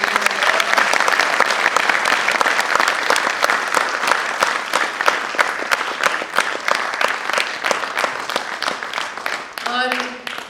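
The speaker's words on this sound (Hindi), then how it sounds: "हमारी एक बार और जोरदार तालियां।" Loud, sustained applause from a theatre audience after a Hindi stage play about the 1962 battle of Rezang La, dense clapping filling the whole stretch with a voice briefly audible near the end.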